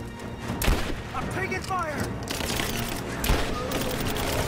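Gunfire in the video game Rise of the Tomb Raider, a few sharp booming shots over busy game sound and music while a voice talks throughout.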